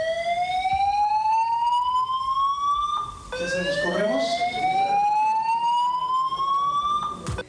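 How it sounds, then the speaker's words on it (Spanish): A fire alarm siren blares loudly and continuously during a press conference at the Viña del Mar festival, its rising wail repeating in long sweeps with a brief break midway, while a voice speaks briefly under it. "cuando de repente comienza a sonar la sirena de incendio"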